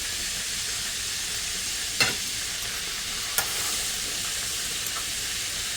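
Pork chops frying in a pan for smothered pork chops make a soft, steady sizzle, with two brief clicks or scrapes partway through and no talk.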